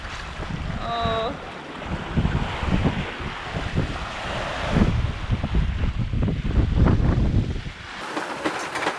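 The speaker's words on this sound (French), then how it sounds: "Il y a autant de vagues. Là, ce que ça fait, c'est ça. Splash! Splash!" Sea waves splash and slosh against a sailboat hull at open sea as the wind eases, a continuous rushing wash with irregular louder surges and some wind buffeting on the microphone.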